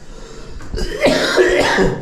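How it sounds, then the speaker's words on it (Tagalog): A person coughing repeatedly on a home construction site while a basin and door are being installed, a short burst of close, loud coughs. "inuubo pa rin ako"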